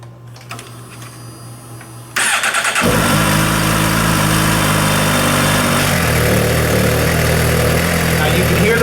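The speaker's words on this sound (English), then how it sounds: "I'm going to start the bike and demonstrate the vacuum." A motorcycle with a PAIR valve system is started after a couple of seconds of near quiet, cranking briefly before settling into a loud, steady idle that shifts pitch partway through.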